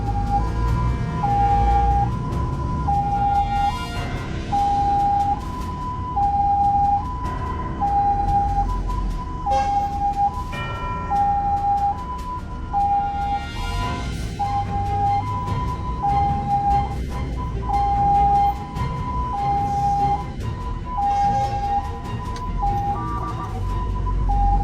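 An ambulance siren wails continuously in morning rush-hour traffic, its two-tone cycle repeating steadily and loudly over the low rumble of vehicles, with a brief navigation voice prompt underneath.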